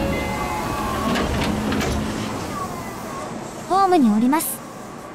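A five-car train decelerates at a station under a rumbling undertone, its hard braking rising into a loud, wavering squeal near the end, with an announcement voice early on.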